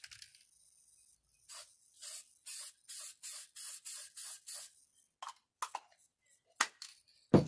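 Kimball Midwest Ultra Promax paint in Chevrolet Orange sprays from an aerosol can in about eight short, even hissing bursts close by, followed by a few scattered clicks and brief sprays in an otherwise quiet room.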